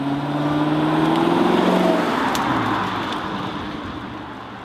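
A 2017 Lexus GS F with its V8 engine drives along, the rising engine note swelling then easing as it settles into a steady cruising hum, close and fairly loud with no voices.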